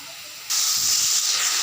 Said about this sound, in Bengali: তো ওই তেলে আমি আগে মিষ্টি কুমড়াটা ভেজে তারপরে শাকটা ভেজে নিচ্ছি।